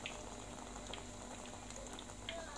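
Cauliflower fritters sizzle steadily in a pan of oil, a soft continuous bubbling hiss with faint pops scattered throughout, close by and fairly quiet.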